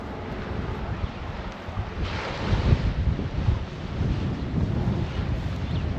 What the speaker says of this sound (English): it's rather windy up here